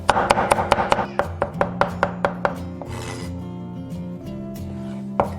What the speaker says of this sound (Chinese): 1小块生姜切末